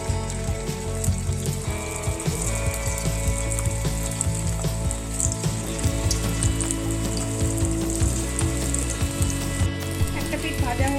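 Sabudana pakoda (sago fritters) fry in hot white oil with a steady, dense sizzle and crackle that carries on evenly throughout at moderate volume, with no speech.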